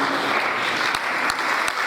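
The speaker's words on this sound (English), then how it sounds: "please let's give a right ovation and a hearty round of applause to our guest lecturer as he takes his seat." Audience applause for a guest lecturer taking his seat at an annual public lecture, a steady, fairly quiet patter of many hands with a few sharper individual claps standing out.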